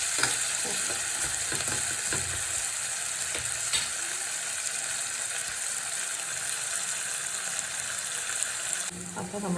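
Sliced onions fry in a pan for a Kerala koorka mezhukkupuratti, giving a steady, close, dense sizzle throughout, with occasional scraping and clacking as they are stirred.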